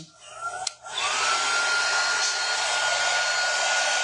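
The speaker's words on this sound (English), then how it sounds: "So now I'm going to dry my surface again." A hair dryer aimed at a freshly painted surface switches on after a brief click and rises into a loud, steady, close-up whooshing blow with a faint whine that holds to the end.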